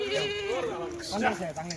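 A Kathiawadi goat bleats in a wavering, drawn-out cry close by at a goat sale, then again more briefly, with a voice talking over it.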